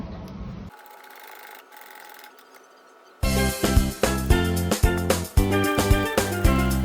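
A sewing machine stitches a slip pocket onto a bag. After a few quiet seconds, it runs loud and close in a fast, rhythmic whir with short pauses and restarts.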